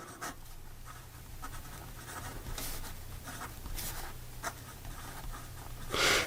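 A Montblanc 146 fountain pen with a medium 14 karat gold nib writes on paper, with soft, continuous scratchy strokes in short bursts, close and quiet.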